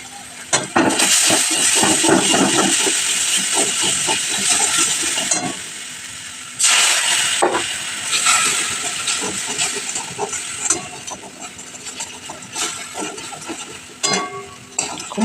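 Spices frying in a pan with salt and chili powder for a village Lakshmi puja meal, a loud, steady sizzle and hiss with clinking of a utensil stirring, briefly dipping before surging again.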